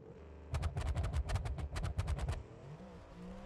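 BeamNG.drive drag car with two-step and trans brake launching: a loud burst of rapid, evenly spaced crackling pops from the engine for about two seconds, then a quieter fading rumble.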